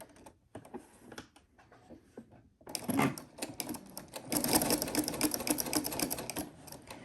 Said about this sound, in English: the sewing machine stitching straight lines